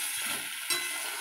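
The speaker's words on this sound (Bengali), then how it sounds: "মশলাটা কষে নিই, এই তরকারিটা একটু কষি।" Pointed gourd curry sautéing with spices in a pan gives off a steady, fairly quiet sizzling hiss throughout, with one brief louder scrape partway through.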